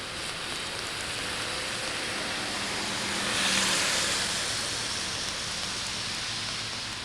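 Rain falls steadily at Rheinfels castle, a dense, even hiss that swells briefly louder in the middle before settling back, with no voices heard.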